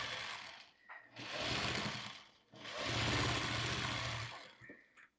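A home sewing machine chain-piecing quilt blocks with a leader ender, running in two sustained bursts of rapid mechanical stitching separated by a short pause, close and fairly loud. Faint clicks and handling noise fall in the gaps.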